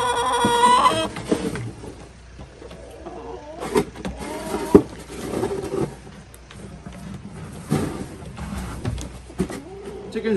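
Chickens cluck and squawk in scattered bursts nearby, mixed with thumps, scraping and occasional human voices.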